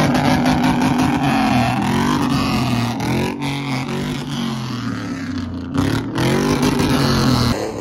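A squatted truck at a truck meet revs its loud engine continuously, the deep roar rising and falling with throttle blips close to the listener, with no talk over it.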